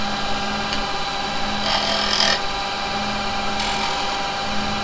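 A wood lathe spins steadily while a carbide chisel cuts the turning wood, with two short bursts of scraping as the tool bites, close and moderately loud.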